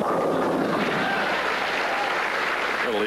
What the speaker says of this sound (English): There she is applauding that shot.